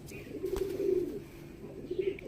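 Pet pigeons cooing nearby, soft low rolling coos in a couple of drawn-out phrases with faint chirps in the background.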